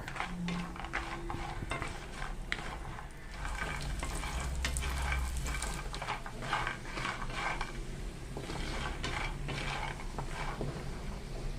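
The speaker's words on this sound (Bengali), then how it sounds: "প্রথমেই কড়াইয়ে সর্ষের তেল দিয়ে বড়িগুলো লাল লাল করে আমি ভেজে নেব।" Lentil bori frying in mustard oil in a wok: a continuous close crackling sizzle mixed with scraping and rattling stirring sounds, no voices.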